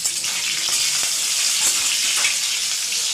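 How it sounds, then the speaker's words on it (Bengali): Onions fry in a pan with a steady, close sizzle and occasional stirring scrapes, with no one talking. "পেঁয়াজগুলো হালকা করে ভাজি,"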